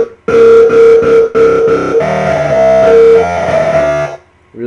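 A Skrillex-style dubstep scream synth patch built in Native Instruments Massive plays alone, loud and distorted, in choppy stabs that give way to a sustained, growling, shifting wail before cutting off.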